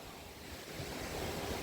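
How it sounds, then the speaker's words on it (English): Rushing water seen from a bridge near the top of a waterfall on a trip to Chittenango, a steady broadband roar building slightly louder, no voices. "So over here is where the water is coming through."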